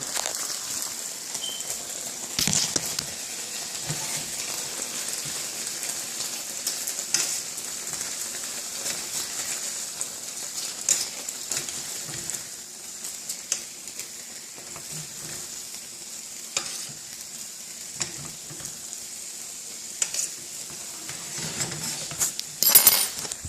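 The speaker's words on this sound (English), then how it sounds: "the bacon's sizzling right now" Steady, crackling sizzle of bacon frying in a pan, a continuous hiss with scattered sharp pops and faint clinks, close by and without speech.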